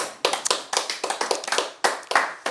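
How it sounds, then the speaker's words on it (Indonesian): A short burst of applause, several people clapping in quick uneven bursts, fairly close and with no one speaking. "Tepuk tangan dong buat ini."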